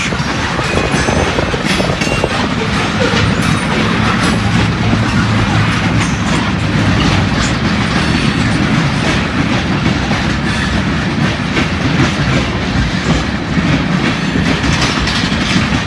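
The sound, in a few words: long freight train passing on rails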